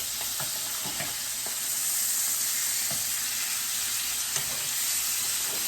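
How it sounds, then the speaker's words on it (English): Rib eye steak sizzles loudly and steadily in a hot pan right after being flipped, a dense close frying hiss with small crackles throughout and no talking. "It's time to flip these over. We got a nice sear on that side."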